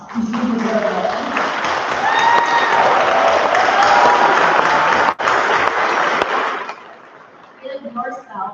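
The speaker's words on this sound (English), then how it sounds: "give yourself some applause" A nursing pinning ceremony audience breaks into loud, sustained applause with some cheering, holding strong for several seconds before thinning to scattered claps and faint voices at the end.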